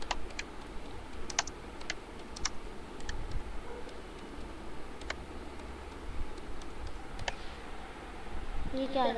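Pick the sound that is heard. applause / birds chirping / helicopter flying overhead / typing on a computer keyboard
typing on a computer keyboard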